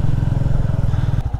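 A Royal Enfield Classic 350 motorcycle rides along a muddy road, its engine giving a steady, loud, close thumping rumble throughout with a slight change near the end.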